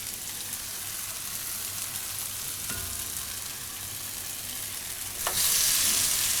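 Paneer bhurji fried rice crackles steadily in a pan over low heat while being stirred, with a couple of sharp spoon knocks and a louder burst of sizzle near the end.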